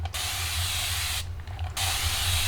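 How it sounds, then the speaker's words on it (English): A small spray bottle mists water onto rubber stamps to wet them for cleaning, sending out two close, hissing bursts with a short pause between them. "I have a little spray bottle here that I keep. And what I do is I just spray these to wet them"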